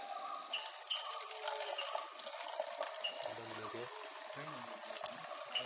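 Water poured into a cut plastic bottle used as a pest trap in a coffee plantation, a soft trickling and splashing stream that runs continuously at low level with faint outdoor background.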